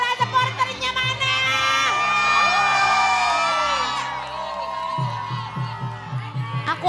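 Supporters cheer, whoop and shout at a televised children's dangdut singing contest grand final, a loud, sustained crowd roar with high children's yells. A rhythmic low thumping joins in near the end.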